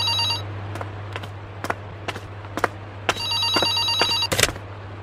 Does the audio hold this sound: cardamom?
no